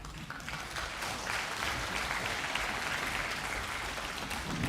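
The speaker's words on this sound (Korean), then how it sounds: "늘 목표를 향해 달려가는 더 오케스트라에게 큰 박수 부탁드립니다." Sustained audience applause for a community orchestra at a regular concert in Sokcho, a dense steady wash of clapping filling the hall throughout, with no voices on top.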